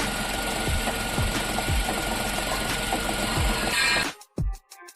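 A Tata Tiago car engine runs steadily after a clutch bearing repair, a close, even idle hum with periodic low thumps, before cutting to near silence near the end.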